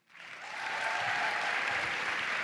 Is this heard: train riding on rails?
no